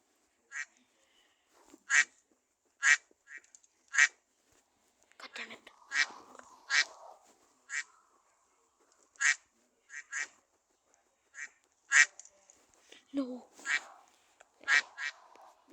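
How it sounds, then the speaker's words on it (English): A cartoonish bird quacks in a Roblox obby game, short bright calls repeating every second or two, with quiet speech murmuring between some of them. "there's another bird."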